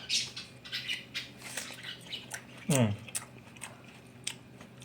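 Close, crunchy chewing of a Dalhari Chamba (Citra) water apple: a series of soft bites and wet munching, with a brief vocal squeak near the end.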